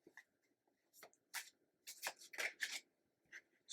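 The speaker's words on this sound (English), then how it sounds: "So I am shuffling the Goth Tarot" Goth Tarot cards being shuffled by hand, a close, quiet run of soft papery riffles and slides in short bursts with brief pauses between them, no talking.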